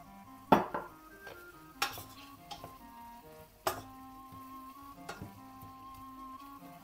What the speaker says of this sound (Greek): Ανακατεύουμε και κλείνουμε το καπάκι για να μαγειρευτεί.